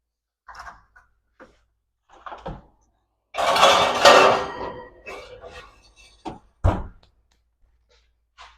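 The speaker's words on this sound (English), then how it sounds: "So I'm going to place this in the oven now." Pita bread goes into the oven: a few light knocks and clinks, then a louder metallic scrape and clatter of a tray and door, followed by scattered thuds.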